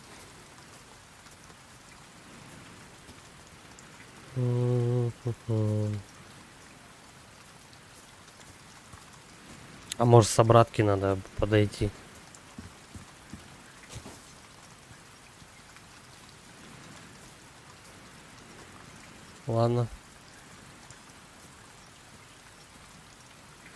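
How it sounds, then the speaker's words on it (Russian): Steady rain pattering in the Resident Evil 4 Remake game, a constant hiss running throughout beneath a man's occasional speech and a few short tonal sounds. "Дождь мешает."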